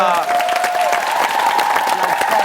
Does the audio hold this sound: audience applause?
yes